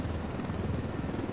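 A helicopter in Ghost Recon Wildlands thrums steadily, a dense low rotor drone filling the short stretch at close range with no break.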